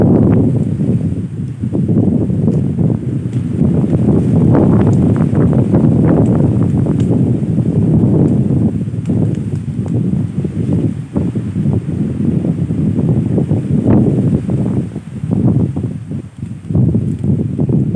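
Loud, steady wind buffeting the microphone throughout, a constant low roar with gusty fluctuations and rustling, no voices.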